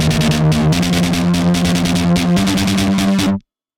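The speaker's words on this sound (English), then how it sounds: "added another distortion, biting heavy distortion." Heavily distorted, limited synth in an industrial metal production plays loud and dense with a pulsing rhythmic chop, then cuts off abruptly near the end.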